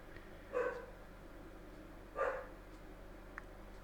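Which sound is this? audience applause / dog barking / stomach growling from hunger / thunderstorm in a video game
dog barking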